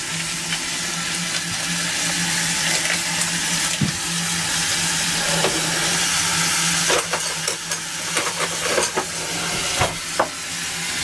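Butter sizzles with meat in a pan for risotto, giving a steady, close frying hiss broken by occasional sharp clicks and scrapes, like stirring.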